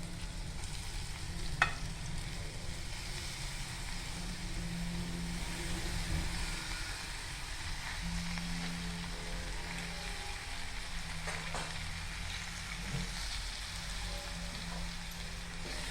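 Poha and cooked peas sizzle and fry in a pan while being stirred, a steady crackling hiss with occasional scrapes and clinks of the spoon against the pan.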